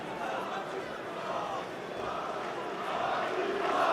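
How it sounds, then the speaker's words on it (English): A mixed martial arts crowd in a cage-fight arena roars and shouts in support of a fighter, a broad, sustained wall of voices that swells slightly louder toward the end. "And the crowd are getting behind him as well"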